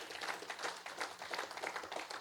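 A church congregation applauds for the Lord, a faint but continuous patter of many hands clapping at a distance, with no voices on top.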